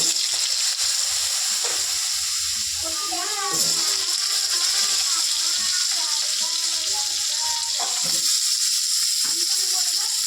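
Potatoes frying in hot mustard oil tempered with nigella seeds, left from frying fish: a continuous loud sizzle with crackles and occasional stirring, under a voice.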